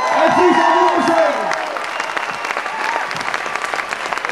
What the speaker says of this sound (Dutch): Nog een applaus voor deze geweldige mensen uit Friese Elfsteden.